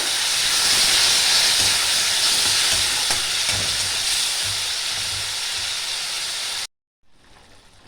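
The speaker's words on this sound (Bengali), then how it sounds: "ভালো করে সব মিশিয়ে একটু কষিয়ে নেব। হালকা পরিমাণে একটু জল দেব, জল দিয়ে আমি কষিয়ে নেব।" Spiced masala sizzling and hissing as it is stirred in a hot pan with a splash of water, a steady loud frying hiss with scraping stir sounds throughout, cutting off abruptly near the end.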